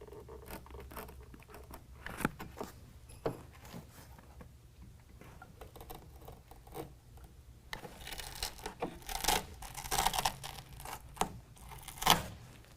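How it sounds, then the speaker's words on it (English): Scissors cut away Velcro near a bracket hole in a Chevy/GMC truck bed while a tonneau cover is being installed; quiet, irregular snips, scratches and rustles up close. "because I've got a little bit of Velcro here, I'm going to go ahead and cut that away"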